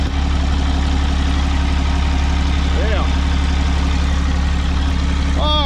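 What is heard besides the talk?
damaged Cummins diesel drag truck engine idling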